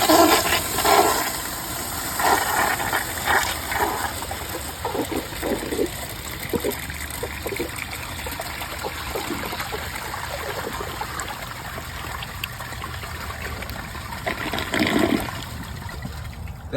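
A 2018 Mansfield Summit dual flush toilet, with a clogged siphon jet and a mid-level tank, flushes with a loud initial rush of water, then a long gurgling, trickling drain that swells again near the end.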